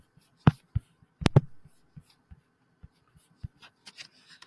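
Pen writing a confirmation code by hand on paper, with a series of short scratchy strokes and taps, a couple of louder bursts near the start, then lighter scribbles.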